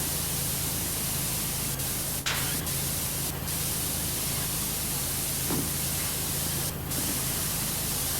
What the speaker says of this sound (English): I've been spraying around the thing like a madman.